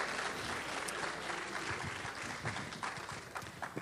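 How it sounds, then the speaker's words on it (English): Audience applause at a small gathering, fairly faint and distant, a few seconds of scattered continuous clapping. "I want some applause here."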